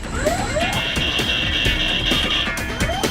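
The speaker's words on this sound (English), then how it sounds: "With alarms, sirens, and verbal warnings going off, Jamie's struggling." Flight simulator cockpit with several alarms and sirens sounding together, a sustained high warning tone over sweeping and stuttering alert sounds, loud and dense, without clear speech.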